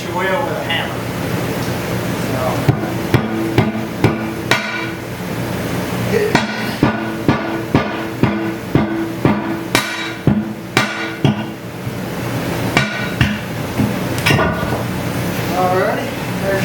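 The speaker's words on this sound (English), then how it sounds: "hit your wheel with a hammer." Repeated sharp metallic hammer blows against a tractor wheel, struck in quick clusters with short pauses, over a steady background hum and some talking.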